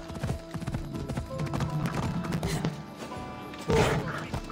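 Horse hooves in Assassin's Creed Odyssey pound in a rapid clip-clop gallop over game ambience, with a heavier thud near the end as the horse lands from a long jump.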